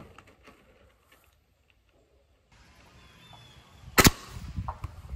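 A Magnum break-barrel air gun fitted with a Center Point scope fires outdoors: one sharp, loud crack after a quiet stretch, followed by faint handling rustles.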